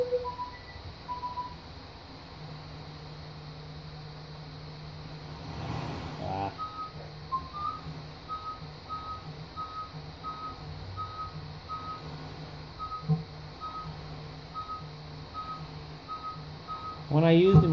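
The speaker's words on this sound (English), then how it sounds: "you have to deal with a little bit of static, so you can hear it in the background" Steady static hisses through cordless metal detector headphones, a constant background wash with a string of evenly spaced electronic beeps running across it.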